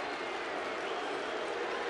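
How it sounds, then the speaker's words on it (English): A large baseball stadium crowd at a 1992 ALCS playoff game between the Blue Jays and Athletics roars steadily, a dense, continuous wash of yelling and cheering with no break. "Crowd yelling Stew."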